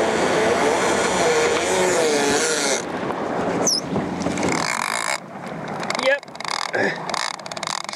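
A fishing boat's engine drones under throttle while chasing billfish off Ningaloo, a steady motor hum that shifts and thins partway through, with voices talking over it.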